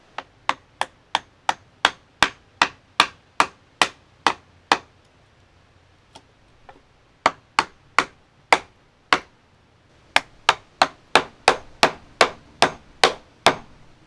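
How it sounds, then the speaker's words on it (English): Hammer and chisel carving a channel into the underside of a wooden block for a homemade camera car mount. Sharp, steady strikes ring out in a quick run, pause briefly, then resume in close, loud bursts. "going to continue chiseling out more of this underside so that the bolts can fit flat underneath."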